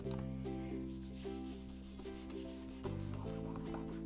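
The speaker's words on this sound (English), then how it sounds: "I'm just giving that a rub just to get rid of the dots" Paper in a planner rubbed by hand to lift off leftover glue dots, a soft close scuffing that repeats in short strokes, quiet and alone.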